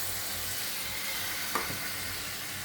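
A cauliflower curry sizzles loudly in a pan just after paneer soaking water is poured in, a continuous hiss of frying with one brief stir or clink partway through.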